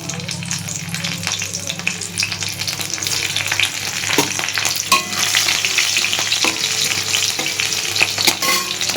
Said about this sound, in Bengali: কারি পাতা ফোড়ন দিয়ে নিলাম কারি পাতাটা এবার কাঁচা লঙ্কাটা দিচ্ছি